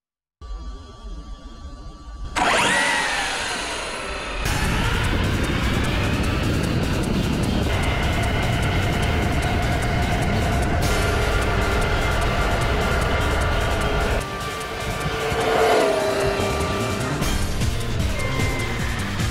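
Large hobby RC car YAK-X PDracing Magnitron driving at top speed, a loud high-pitched motor whine that starts abruptly and holds steady with rising and falling tones, no speech.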